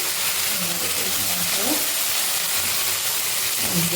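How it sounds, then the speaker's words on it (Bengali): Spices and boiled chickpeas sautéed and stirred in a pan give a steady close sizzle and hiss throughout, with faint stirring scrapes and a voice murmuring low beneath the frying. "এটাকে ভালো করে নাড়িয়ে চাড়িয়ে ঢাকা দিয়ে একটু কষিয়ে নেব"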